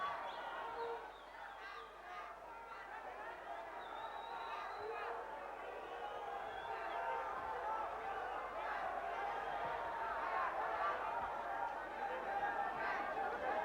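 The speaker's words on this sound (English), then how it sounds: "A buzz of anticipation from the crowd, waiting for the moment that they can proclaim Nene their new champion." Spectators at a 1995 South African boxing bout keep up a faint, continuous buzz of chatter and murmuring, with scattered calls rising from the hall.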